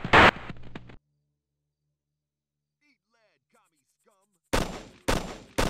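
Gunfire from the Arma: Cold War Assault training range hits targets in loud, close bursts at the start and again near the end. Near-silence separates the bursts, with only a faint voice in between.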